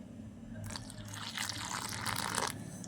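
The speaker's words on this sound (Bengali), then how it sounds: "এবার আমি গরম জল দিয়ে মাখবো" Hot water poured onto flour dough being kneaded by hand, a soft splash and trickle followed by wet squelching and pressing, close and quiet.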